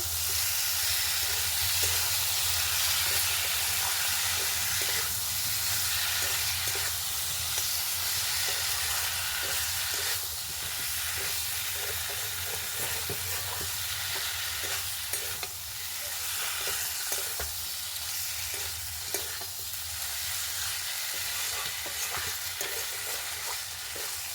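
Boiled katla fish stir-fried with potatoes in a pan, a continuous loud sizzle and hiss with repeated scraping and stirring strokes through the whole stretch.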